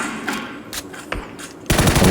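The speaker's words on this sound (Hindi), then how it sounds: "फायर मारता हूँ मैं," Gunfire in the battle game PUBG on the Erangel map, with M416 and Kar98 rifles: a few scattered sharp shots, then a loud dense burst of rapid automatic fire at the end.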